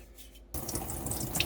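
Running tap water starts abruptly after a brief quiet moment, a steady close splashing stream from a kitchen faucet as the cleaned faucet head is rinsed.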